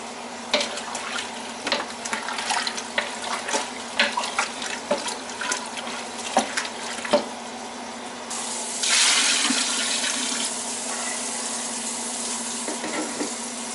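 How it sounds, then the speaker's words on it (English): Tap water runs steadily into a soup pot holding meat and potatoes for homemade Portuguese soup, a close continuous splashing stream that swells louder and brighter toward the end. "I got to add some water to that."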